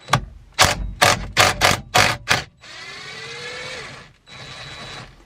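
A 16mm center bolt is removed from a BMW steering wheel: a run of sharp ratcheting bursts, then a longer whirring power-tool spin that pauses and resumes, loud and close.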